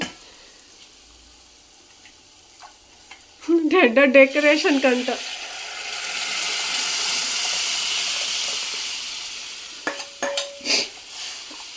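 Food sizzles in a pan while it is stirred. A voice speaks briefly, then a long loud hiss of frying rises and fades, ending in a few clinks of a utensil against the pan.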